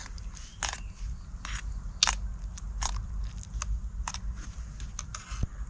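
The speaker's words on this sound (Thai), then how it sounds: "กินต้มมาม่า กลางป่าฮะ" Someone eating boiled Mama instant noodles at the forest edge, with a string of short crunchy bites and slurps at an irregular pace, close up over a steady low outdoor hum.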